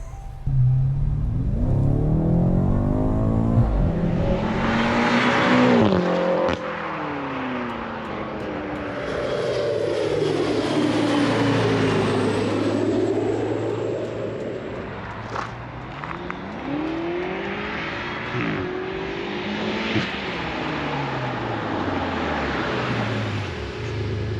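A 2018 BMW M5 Performance on a test drive, its engine rising and falling in long sweeping revs through gear changes, loud and continuous for the whole stretch with no talking.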